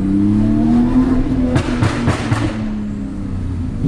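A Porsche 911 Turbo S engine revs and accelerates nearby, its pitch rising steadily with a few sharp gear-change blips before settling.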